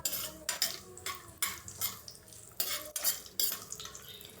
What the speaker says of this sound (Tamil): முந்திரி பருப்பு, திராட்சை சேர்த்துட்டு நல்லா ஃப்ரை பண்ணிக்கலாம்.